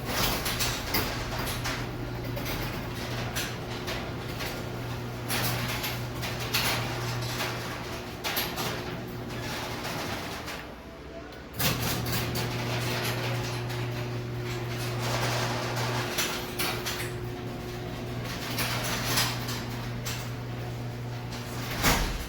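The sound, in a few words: uninsulated garage door opening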